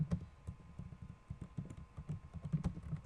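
Steady, close keyboard typing on a computer, a quick irregular patter of soft key presses while a short script is written, with no voices.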